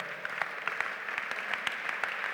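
A church congregation claps together during a sermon, a steady burst of many hands with sharper peaks standing out, moderately loud and without talk over it.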